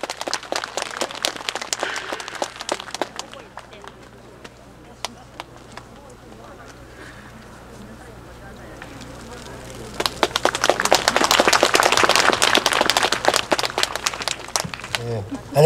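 Audience applause at a ceremony in Samcheok, South Korea, celebrating Jukseoru pavilion's elevation to national treasure, a thin patter of clapping under a low hum, then swelling into a fuller round of applause from the crowd in the final seconds.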